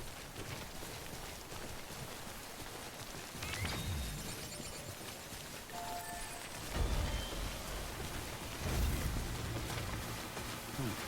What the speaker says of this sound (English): Yep, rain.